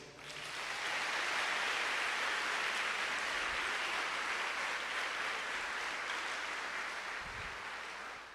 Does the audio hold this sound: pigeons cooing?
no